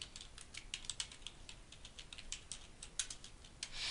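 Rapid, light tapping on a computer keyboard, quiet and close, with irregular bursts of keystrokes and no voices.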